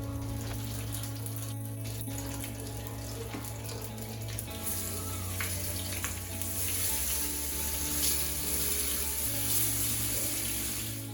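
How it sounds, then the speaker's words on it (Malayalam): Fish frying in hot coconut oil with curry leaves makes a continuous hissing sizzle, moderately loud and steady throughout, over a low steady kitchen hum, with no one speaking. "വെളിച്ചെണ്ണ ഒന്ന് ചൂടായിട്ട് വന്നേരം കറിവേപ്പില ചേർത്ത് കൊടുത്തിട്ട് പിന്നെ മീനിട്ടൊന്ന് ഫ്രൈ ചെയ്തെടുക്കലാണ്"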